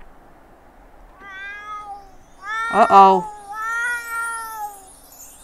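A cat in The Sims 4 video game meows several times in drawn-out, rising and falling calls, one louder and more strained than the rest. A person briefly speaks over one of them.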